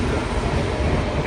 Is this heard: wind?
no